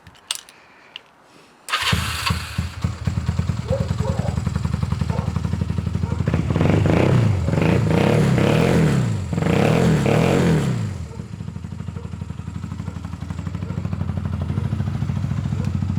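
Honda CB250 motorcycle engine starts after a brief quiet moment, then runs loud and close with a steady idle and a couple of throttle revs that rise and fall before it settles back to idle.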